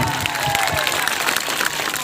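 Dense audience applause fills an Adivasi cultural programme, a steady continuous wash of many hands clapping throughout, loud and close, with faint crowd noise beneath.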